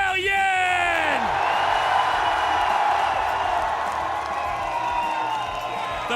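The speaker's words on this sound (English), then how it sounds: "The crowd is hyped, as you can tell." Esports arena crowd roars and cheers steadily at the Rainbow Six BLAST Salt Lake City Major grand final between DarkZero and Shopify Rebellion, a loud continuous wash of voices under a commentator talking.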